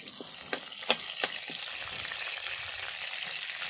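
Garlic frying in oil on a wood-fired stove, a steady bright sizzle with a few sharp pops and crackles early on, close and continuous.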